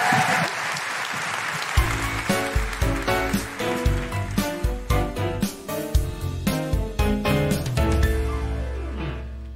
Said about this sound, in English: Big round of applause for Manal Yunus.